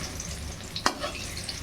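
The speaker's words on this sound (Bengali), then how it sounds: "এই দেখুন, বেগুন ভাজা চাপিয়ে দিয়েছি।" Brinjal slices fry in hot oil in a pan, giving a steady close sizzle with one sharp clack of a utensil partway through.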